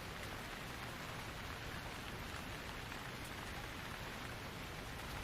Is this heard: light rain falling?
yes